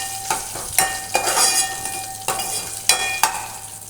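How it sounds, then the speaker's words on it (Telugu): Tempering spices spit and crackle as they fry in hot oil, a steady sizzle broken by a few sharp stirring scrapes and bursts, close and fairly loud with no talk. "ఆయిల్ వేడెక్కిన తర్వాత పోపు దినుసులు వేసేసుకొని అవి కొంచెం ఫ్రై అవ్వాలి"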